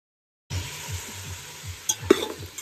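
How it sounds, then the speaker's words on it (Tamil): Onions and vegetables fry in oil in a pan, making a steady sizzle with rhythmic stirring scrapes and a few sharp clinks; the sound starts after a half-second of silence. "வெங்காயம் வந்து நல்லா ப்ரௌனிஷாக வதங்குற வரையே காயும் அது கூட சேர்ந்து வதங்கும்"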